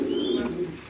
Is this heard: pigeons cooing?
yes